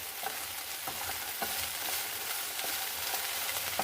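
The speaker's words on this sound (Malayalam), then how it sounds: "നല്ലപോലെ ഇളക്കി കൊടുക്കാം" Cooked, spiced beans are stirred in a hot pan with a soft sizzle. Regular scraping clicks come about twice a second, close and steady, with no talking.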